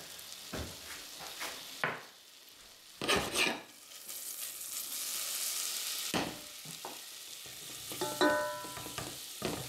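Butter melting in a pan on a stove over medium heat for a leek and cheese sauce, with a soft steady sizzle running throughout and occasional louder clinks and stirring scrapes of a utensil against the pan.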